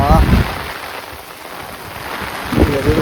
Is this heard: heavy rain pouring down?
yes